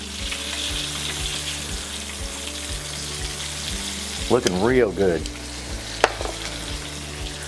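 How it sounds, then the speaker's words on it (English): Steady, busy sizzling of chicken deep frying in hot oil in a fryer, with someone briefly speaking partway through. "just go ahead and just drop it very easily into the fryer"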